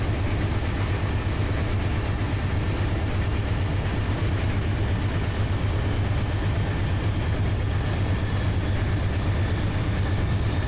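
The diesel locomotive engine of a 12,000-ton coal train in Run 8 Train Simulator drones loudly and steadily, a deep, even rumble with no breaks or voices.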